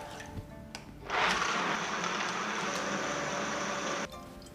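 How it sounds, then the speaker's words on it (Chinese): Electric blender grinding soaked soybeans in 1300 ml of water into raw soy milk, a steady loud whirring churn that starts abruptly after a second of quiet and runs for about three seconds before cutting off. "放进料理机里面，加入1300毫升清水，"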